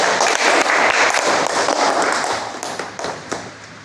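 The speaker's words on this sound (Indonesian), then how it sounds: "Mari kita berikan tepuk tangan untuk Aditria" A classroom of students applauds a group after its presentation on manual clutch systems. The clapping is dense, loud and close, with sharp individual claps that taper off toward the end.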